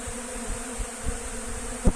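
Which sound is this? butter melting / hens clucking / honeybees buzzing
honeybees buzzing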